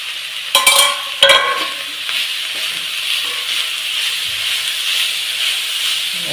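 Bitter gourd peera being stirred in a hot pan, opening with two sharp scraping clatters of a spoon against metal, followed by a steady loud steamy hiss that carries on alone without speech.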